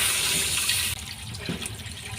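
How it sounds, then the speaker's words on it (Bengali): Warm water pours into cooking masala in a pan with a steady rushing splash that cuts off abruptly, followed by quieter sizzling and bubbling. "এবার এখানে আমি উষ্ণ গরম জল দিয়ে দিলাম"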